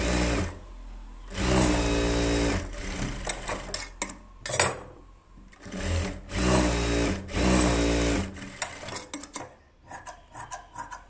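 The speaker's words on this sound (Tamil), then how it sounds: "எக்ஸ்ட்ரா தையல் போடுறத இப்போ போட்டுக்கலாம்" An electric sewing machine stitching a blouse runs in several loud, close bursts of rapid whirring and clattering, stopping and starting between runs, with small metallic clinks during the pauses.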